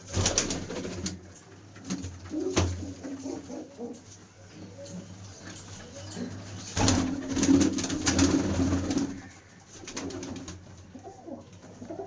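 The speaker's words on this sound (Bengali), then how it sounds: "টেডি পায়রা দেখাচ্ছি" Teddy pigeons, a fancy pigeon breed kept in Berhampore, Murshidabad, coo in low, throaty, repeated calls close by, with soft rustling and scattered background noise between the bursts.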